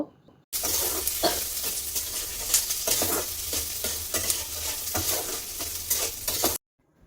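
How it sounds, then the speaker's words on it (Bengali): Chopped onions frying in oil for egg pulao, a steady loud sizzle broken by repeated scraping strokes of a spoon stirring the pan, heard alone. "দিয়ে পেঁয়াজটা বেশ ভাজা করে নেব।"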